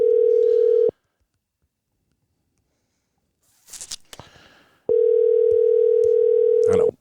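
A telephone ringback tone sounds in two long steady beeps separated by a silent gap while a call waits for pickup, with faint rustling and tapping noises between rings.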